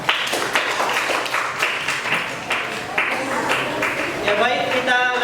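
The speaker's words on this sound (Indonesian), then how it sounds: "Berikan tepuk tangan untuk kelompok 4." A classroom bursts into applause after a student group's presentation, with many hands clapping in quick, uneven bursts close by, and voices murmuring underneath throughout.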